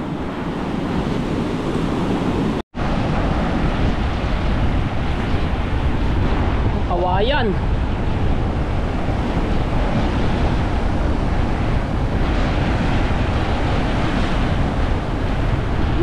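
Strong water current and surf surge in a steady, loud roar, with wind buffeting the microphone throughout and one brief dropout near the start.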